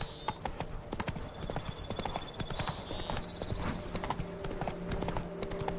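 Roach the horse's hooves clip-clop steadily on a road in The Witcher 3, an even rhythmic trot running throughout with faint background game ambience.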